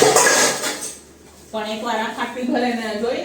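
Dishes and cutlery clatter close by for about a second as they are scrubbed clean, then a voice starts talking as the kitchen clinks continue faintly underneath.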